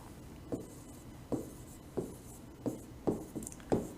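A pen scratches out notes on paper close by, six short strokes falling at a fairly even pace, quiet and heard without any speech.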